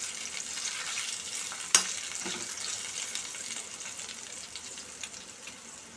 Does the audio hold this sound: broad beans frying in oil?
yes